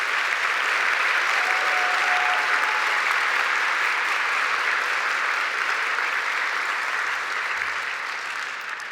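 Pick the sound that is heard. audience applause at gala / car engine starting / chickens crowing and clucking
audience applause at gala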